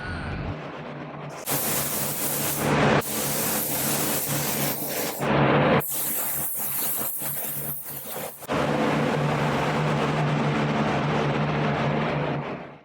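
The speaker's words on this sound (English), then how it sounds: "Now I can spray some clear coat." Spray can spraying clear coat onto a car during a respray in a cold, cramped garage: several long hissing bursts separated by short pauses, close and steady.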